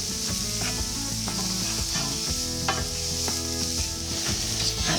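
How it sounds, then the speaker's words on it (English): Cauliflower fries in oil in a pan for a fried rice dish, with a steady close sizzle and repeated scraping and stirring against the pan. "I just want to fry the cauliflower just for a minute, just to remove any of the prominent raw flavour."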